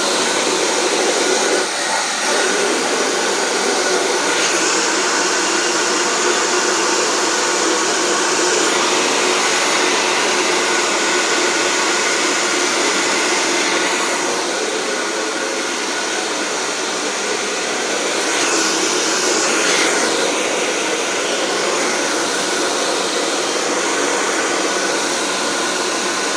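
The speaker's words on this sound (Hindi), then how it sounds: "ड्रायर" A hair dryer blows steadily and loudly close by during a home haircut, a continuous broadband whoosh for about half a minute with slight changes in pitch as it moves, and no talking.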